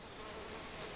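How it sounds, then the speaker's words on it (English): A wasp buzzes faintly and steadily beside its mud nest, a brief continuous insect drone with no voices. "to thwart the cuckoo wasp, an opportunist looking to plant her own eggs in other wasps' nests"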